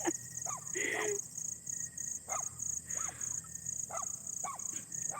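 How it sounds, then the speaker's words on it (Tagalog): At night in an open field, a dog barks in short yelps at regular intervals, sounding moderately distant over a steady high insect chorus and low background hum. "Ang ingay ng aso."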